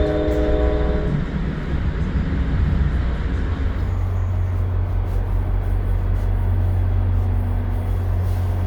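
A commuter train rumbles at Atlantic City station in New Jersey, a loud, steady low drone with a horn-like tonal blast at the start, then continuous engine and wheel rumble.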